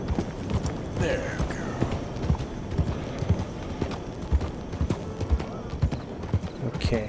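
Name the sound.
horse hooves in video game Red Dead Redemption 2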